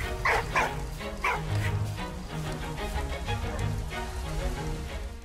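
A dog in a side-scrolling adventure video game barks several times early on over a rainy ambient soundscape, then the rain continues alone.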